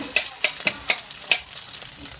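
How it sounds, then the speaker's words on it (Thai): Hot oil sizzling and crackling in a pan as squid eggs fry, with sharp pops bursting out at a steady uneven rhythm, close and fairly loud. "ทะกระทะร้อนได้ที่แล้วนะครับก็"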